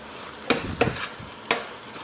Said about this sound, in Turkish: şu an burada sosis kızartıyorum